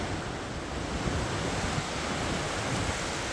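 The Uhl river runs through mountains below the high Dhauladhar range, its steady, broadband rush of water continuous and fairly close, with no voices over it.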